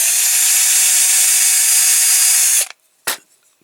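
A power drill bores into the roof of a Corgi Major Toys Carrimore car transporter under restoration, whining loudly and steadily for over two seconds, then cutting off, followed by one short final burst.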